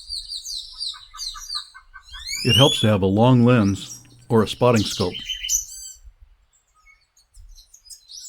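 Birds chirp and call repeatedly in cloud forest at Monteverde, Costa Rica, high thin whistles and trills spread through the clip, with someone speaking over the middle stretch.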